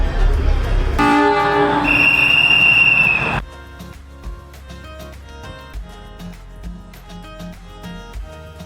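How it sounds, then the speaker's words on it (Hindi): The Matheran toy train pulls away from Aman Lodge station with a loud horn toot over a rumbling engine. Quieter rhythmic clicking of the wheels follows as it gets under way. "अमन लॉज स्टेशन से निकल पड़ी है हमारी टॉय ट्रेन और हम जा रहे हैं माथेरान"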